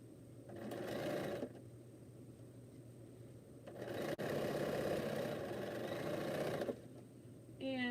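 A sewing machine stitches quilt fabric in two steady mechanical runs with a quieter pause between, its rapid even hum close and fairly faint.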